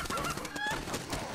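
A chicken squawks loudly in the video game Fable 3, a harsh honking cry layered over dense, noisy game sound for the whole moment.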